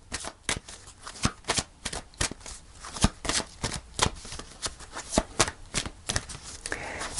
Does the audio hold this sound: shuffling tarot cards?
yes